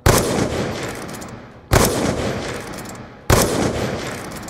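Three sniper rifle shots while quickscoping in a video game, each a sharp loud crack followed by a decaying echo tail, evenly spaced about a second and a half apart, no talking.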